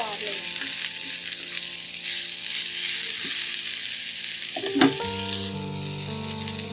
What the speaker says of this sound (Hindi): अब जो शिमला मिर्च थी वो डालनी है और हल्का सा उनको फ्राई करके